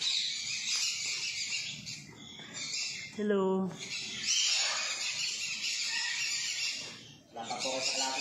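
Birds calling in a garden in Ciudad de Victoria, with repeated high chirps and tweets and one clear descending call, while people talk nearby throughout.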